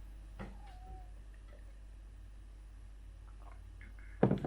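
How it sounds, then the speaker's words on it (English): A pet cat meows indoors, soft and brief at first, then a louder close meow near the end over a quiet room hum. "and a cat that likes to talk."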